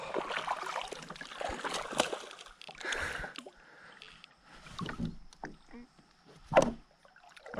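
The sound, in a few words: kayak moving on a small river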